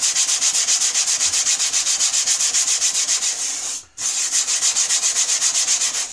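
A planer blade rubbed steadily back and forth on a whetstone, a dense rhythmic scraping of strokes, close and loud, with one brief pause partway through.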